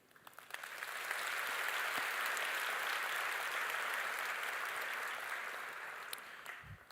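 Sustained applause from a university graduation audience for the Stellenbosch University Symphonic Wind Ensemble, a dense wash of clapping that swells in, holds steady and fades near the end.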